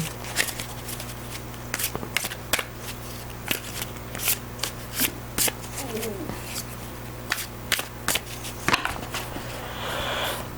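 A tarot deck being shuffled at close range, with repeated crisp riffles and card snaps in uneven bursts under a low steady hum.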